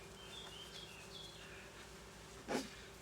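Honeybees buzzing at a hive while a beekeeper sets up a colony on two boxes for winter, a soft steady hum with a brief louder burst near the end.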